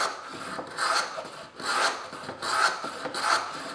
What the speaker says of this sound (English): yes, you can plow end grain